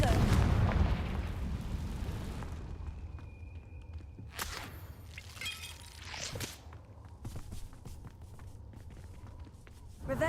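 A Confringo fire blast spell in the Hogwarts Legacy video game lets off a loud booming burst up close, followed by crackling debris, scattered impacts and shuffling footsteps as the din fades.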